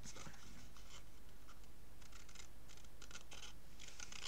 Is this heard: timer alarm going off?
no